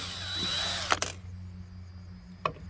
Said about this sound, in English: Now we'll take these screws off.